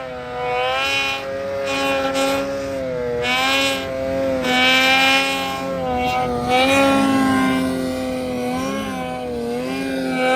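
A non-turbo car engine revs and drones steadily, sounding strained, its pitch rising and falling in repeated surges, fairly close with no voices.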